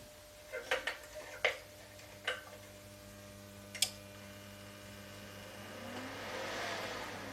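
A few sharp clicks and ticks, then a low electric whir rises steadily as the small cooling fan of a Telwin Force 165 welding inverter spins up, humming louder toward the end.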